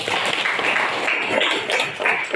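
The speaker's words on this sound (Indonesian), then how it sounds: "Oke, tepuk tangan dulu." A classroom of students applauding during a history lesson on the Indonesian proclamation: dense, steady clapping from many hands filling the room without a break, fairly loud and close.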